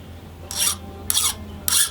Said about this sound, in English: You hear it biting in because the file's harder than this piece of steel in my hand